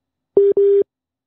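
Telephone busy signal after a dropped call, two short steady tones in quick succession, clean and loud with nothing else around them.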